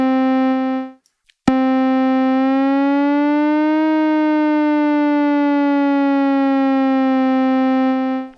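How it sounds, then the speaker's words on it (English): Synthesizer in Nikolozi Mela 5 with glide (portamento) on: a bright buzzy sustained tone, a brief gap and click, then one long held note that slides smoothly up and back down in pitch before fading out, loud and alone. "you can also go to pitch processor and say add the glide"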